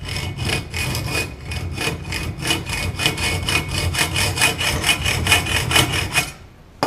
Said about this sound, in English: Clamp it in place and cut through it, just like before.